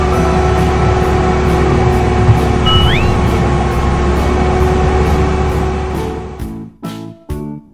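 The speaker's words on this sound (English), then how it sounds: "Dump truck." An animated dump truck's engine drones steadily, then short, evenly spaced reversing beeps pulse near the end, loud and close.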